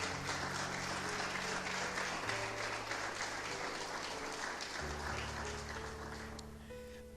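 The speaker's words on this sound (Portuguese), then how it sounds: "Aplauda ele se você puder, mais um pouco." A church congregation applauds steadily throughout a worship service, a dense wash of clapping holding at an even level with a sustained organ or keyboard chord underneath, no voices heard.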